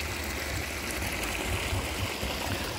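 Warm spring water from a mineral spring stream flowing steadily in Bojnice, a continuous close rushing and burbling wash with no voices.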